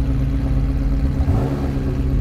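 A Ferrari 288 GTO engine hums steadily from inside the car, a dense mid-low drone that swells slightly as the driver accelerates, with no voices over it.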